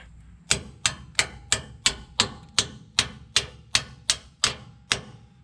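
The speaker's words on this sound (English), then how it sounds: "With my little tiny mini hammer." A small hammer taps metal in an even, steady rhythm, about a dozen crisp strikes each ringing briefly, close up with no talking, while fitting an adjustable track bar on a Dodge Ram 2500/3500.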